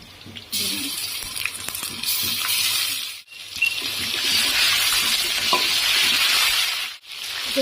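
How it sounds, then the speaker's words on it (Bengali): Cinnamon, cardamom, bay leaf and ginger frying in hot oil for khichuri, a loud close sizzle with stirring scrapes, cutting out sharply twice before resuming. "গরম তেলের ভিতরে দারচিনি এলাচি আর তেজপাতা দেওয়া হলো পেঁয়াজ তেজপাতা গরম মশলা দিলাম দিয়ে ভাজা আদা ভাজা হলো"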